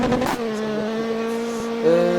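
A car in the video game Roblox slides and skids, its engine holding a sustained revving tone with tire squeal, then pitching up sharply near the end.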